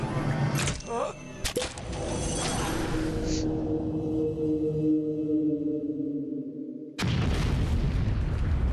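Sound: explosion in the video game Metal Gear Solid 3

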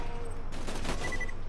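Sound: gunfire in Borderlands 2 video game

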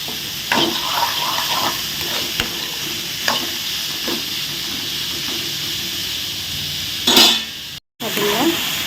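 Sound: stirring and sautéing beetroot in oil

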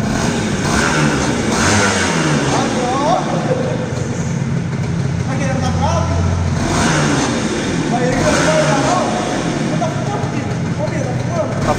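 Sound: Yamaha RD 135 two-stroke motorcycle engine started and revving

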